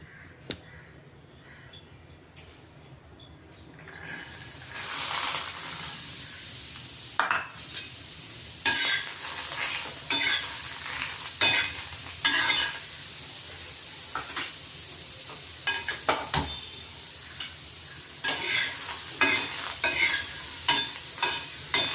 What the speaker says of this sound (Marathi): आता या गरम तव्यावरच आपण हरभरे भाजून घेणार आहे